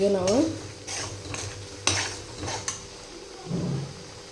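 Mushroom masala fries in a pan, stirred with a utensil in repeated scraping strokes over a low sizzle, with brief bits of voice at the start and near the end.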